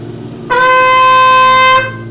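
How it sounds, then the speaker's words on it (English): A trumpet holds a single steady high D played with the first valve, a bright, brassy tone sustained for over a second before stopping cleanly, with no talking over it. "For trumpets, cornets only. We're playing D."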